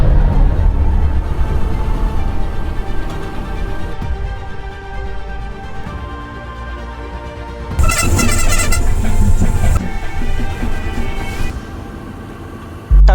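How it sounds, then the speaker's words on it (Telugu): Tamil Nadu lorry moving along a highway, heard from on board: a continuous rumbling engine and road noise, with a bright burst of horn or rattling near the middle. "తమిళనాడు లారీ అనమాట, బాపట్ల వరకు దింపేస్తారు నన్ను."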